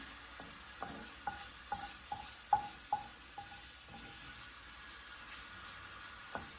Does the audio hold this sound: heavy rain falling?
no